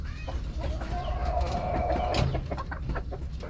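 Hens cluck and call inside a chicken coop on a farm, a few close squawking clucks rising over a low rumbling background, with no talk heard.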